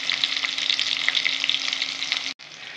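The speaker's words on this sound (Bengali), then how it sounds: "একটু লাল লাল করে ভেজে নেব" Vegetables frying in a pan, with dense, continuous sizzling and crackling that carries on steadily, then cuts out briefly before resuming. No one speaks.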